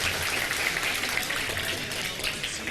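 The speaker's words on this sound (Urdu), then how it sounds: "تالیاں بجا دے بھائی" Studio audience applause on a Ramadan iftar television show, a steady, dense wash of clapping that holds at an even level throughout, with no voices standing out.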